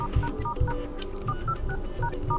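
DTMF keypad tones on a Sony Xperia Pro-I as a secret service code is entered, a quick run of short, evenly spaced dual-tone beeps, close and clear with no talking.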